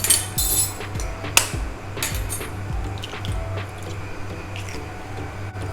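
In a home kitchen, an egg is cracked into leftover batter for cheesy egg bread pakora and mixed in. Close clinks and taps of a utensil against the bowl come through, with one sharp crack early on.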